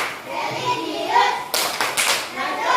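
Children in a classroom clap the rhythmic patterned "tepuk PPK" cheer at a teacher's call, with bursts of claps standing out from ongoing voices and chanting.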